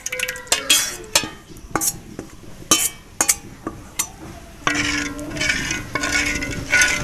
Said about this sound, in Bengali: তো সবগুলো আমি এখন একসাথে মিশিয়ে নেব।